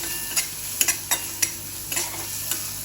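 Asafoetida crackling in hot oil for a beet and gram flour snack, with a utensil stirring through it in sharp clicks and scrapes over a steady close sizzle.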